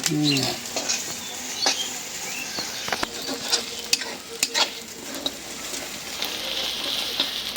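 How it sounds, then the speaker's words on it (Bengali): Garlic sizzling in a pan in a village kitchen while being stirred, a steady bright frying hiss with scattered clinks and scrapes of the spoon, close and fairly loud, no talking. "রসুন ভাজার যে একটা বাসনা।"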